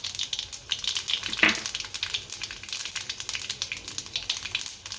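Cumin seeds dropped into hot oil in a pan after mustard seeds, giving a steady close crackling sizzle with a brief louder burst as they hit, continuing throughout without talk.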